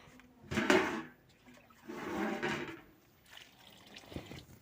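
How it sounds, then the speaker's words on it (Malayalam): Water is poured into a curry mixture in three separate splashing bursts with short pauses between them, moderately close and fairly quiet overall. "ആവശ്യത്തിന് വെള്ളം ഒഴിച്ചു കൊടുക്കാം"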